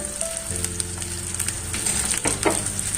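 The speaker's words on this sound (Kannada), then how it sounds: "ಸಾಸಿವೆ ಹಾಕಿ ಸಾಸಿವೆ ಸಿಡಿದ ಮೇಲೆ" Hot oil sizzling with sharp crackles and pops from mustard seeds spluttering, a steady frying hiss with a few louder spits near the end.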